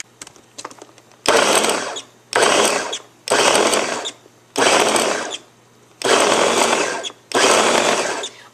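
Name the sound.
baby food maker blending peas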